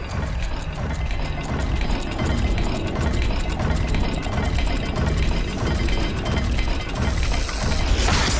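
A puzzle dial turning in Hogwarts Legacy, a dense loud run of ratcheting, grinding mechanical clicks that continues steadily for several seconds, with no talking.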